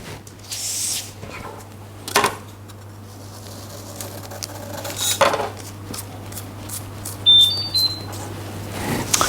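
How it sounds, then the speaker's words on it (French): A kitchen oven beeps to signal it has preheated while a strawberry-raspberry dacquoise is being made. A few short, high beeps sound near the end over faint clinks of dishes and utensils. "mon four vient de sonner, il est chaud"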